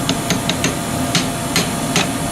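A hammer taps a stuck part on an HP9 during cleaning, sounding as sharp metallic knocks, seven irregular strikes spaced a fraction of a second apart, close and loud against a low hiss.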